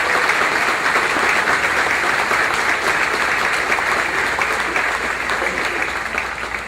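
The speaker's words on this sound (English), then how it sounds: "I'd like for y'all to give him a big round of applause" An audience at an annual meeting gives a big round of applause for a newly named CEO, dense and sustained clapping from many hands filling the room, loud and steady, easing slightly toward the end.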